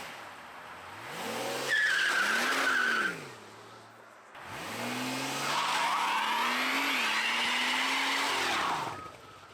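A twin-turbo V12 Mercedes engine fitted with a prototype intake, heard from inside the car, revs hard in two long, loud bursts, its pitch sweeping up and falling back between them.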